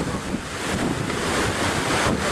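Ocean surf washes steadily onto South Beach. The wash is loud and continuous, with strong wind buffeting the microphone and no voices.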